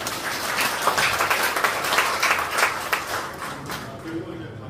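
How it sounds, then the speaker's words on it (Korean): Audience at a Korean seminar applauding after a professor's lecture, a dense burst of many hands clapping at close range that swells and then thins out toward the end. "다시 한번 감사드리고 박수 한번 부탁드립니다."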